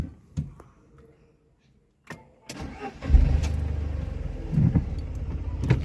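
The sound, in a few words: Tata Nano car engine while learner drives in third gear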